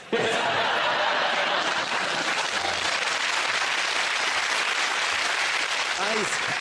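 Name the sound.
studio audience applause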